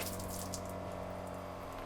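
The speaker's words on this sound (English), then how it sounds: "Hot water will come out." Shower water running in a Toyota Landcruiser 78 Series Troopy camper, a steady close hiss of spray over a low pump-like hum.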